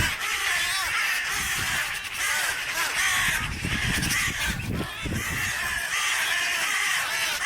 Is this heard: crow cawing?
yes